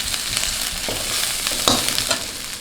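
Curry leaves hitting hot oil in a pan with onions for a brinjal potato curry, a loud close sizzle and spattering crackle that holds steady for a few seconds.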